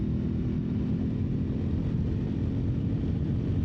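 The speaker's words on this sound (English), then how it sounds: "Very playful engine." Aprilia Tuareg 660 adventure motorcycle engine running steadily on a gravel-strewn mountain road, a continuous low drone with wind rush, close and even throughout with no talk.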